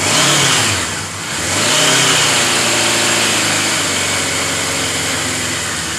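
A 1977 Suzuki GS550 four-cylinder motorcycle engine idling steadily and loud nearby, with a slight dip and rise in revs early on before settling into a low, even idle.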